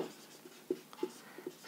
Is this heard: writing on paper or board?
yes